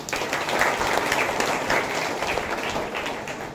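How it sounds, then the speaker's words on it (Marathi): Audience at a Guru Purnima function applauding a former teacher, steady loud clapping filling the room for the whole stretch without any talk over it. "सरळ जोरदार टाळ्या"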